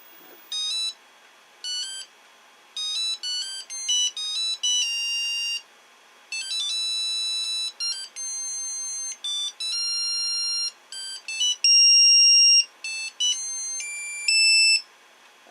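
A 3D printer signals a finished print with a bright electronic beeping melody, two short tunes of rapid chirped tones repeated in bursts over a quiet background, with no voices.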